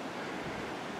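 River water flows steadily down toward a bridge in Jutland, a soft, even rushing wash that holds constant without breaks or voices.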